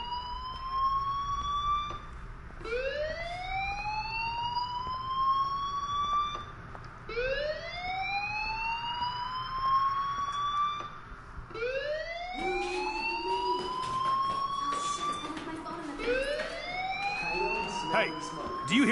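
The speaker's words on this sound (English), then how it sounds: "Hey, do you hear that fire alarm?" Fire alarm ringing in Life is Strange, a repeated rising electronic wail sounding about every two to three seconds, steady and prominent, with other noises crowding in toward the end.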